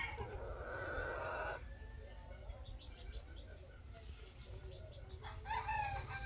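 Five-month-old Polish lion breed chickens crow and cluck, a loud burst up close at first, then softer calls and chirps over steady barnyard background noise.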